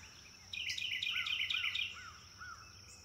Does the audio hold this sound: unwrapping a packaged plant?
no